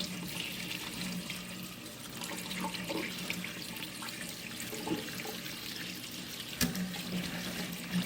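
Organic climbing beans rinsed under a running kitchen tap, a steady close rush of water splashing into a sink with faint handling noises throughout.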